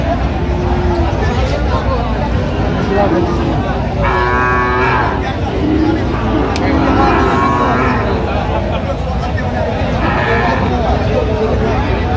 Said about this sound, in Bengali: শাহিওয়ালের ষাঁড় বাচ্চা, সুন্দর কোয়ালিটির।